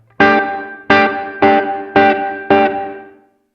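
Five evenly spaced distorted electric guitar chords through an Alabs Cetus reverb pedal with increased pre-delay, each ringing out into a lingering reverb wash that fades before the next strike.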